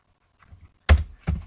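A few sharp key presses on a computer keyboard while writing CSS code, two louder clacks after faint taps, close and isolated in a quiet room.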